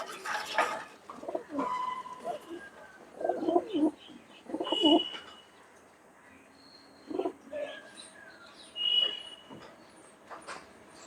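Desi Giribaz pigeons with yellow eyes coo in a series of soft, throaty bursts spread across the scene, near and moderately loud, with faint chirps between them and no talking.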